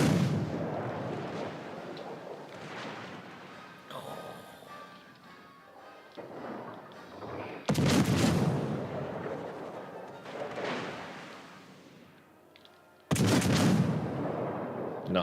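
Warship guns in World of Warships: Legends fire heavy volleys, booming blasts with long rumbling tails, several spaced across the stretch with a steady engine and ambient wash between them.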